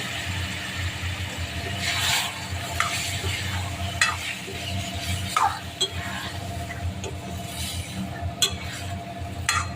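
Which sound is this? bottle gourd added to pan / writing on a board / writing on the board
bottle gourd added to pan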